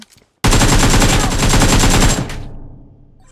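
Sustained automatic gunfire in the PUBG Mobile battle royale game during a hot-drop fight, a loud rapid burst of shots lasting about two seconds before trailing off into a fading echo.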